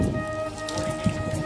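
Rain falls on Girnar hill under darkening, foggy cloud, a brief steady patter of drops on surfaces with a low rumbling background and no speech.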